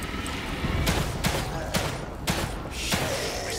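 Gunfire in The Evil Within 2 inside the Sanctuary Hotel: five sharp shots spaced roughly half a second apart, fairly loud over a dull background rumble, with no voices.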